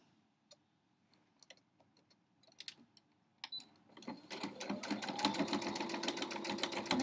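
A sewing machine stitches fabric for a quilt block, starting with a few scattered clicks and taps, then settling into a fast, steady mechanical chatter that grows louder and runs to the end.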